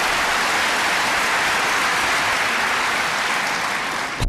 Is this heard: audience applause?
yes